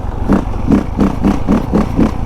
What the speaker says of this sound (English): that throttle response is insane